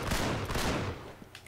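Rapid gunfire crackles in an Uncharted 3 co-op firefight at a monastery, a loud burst of overlapping shots that eases off after about a second, with a few scattered sharp reports after.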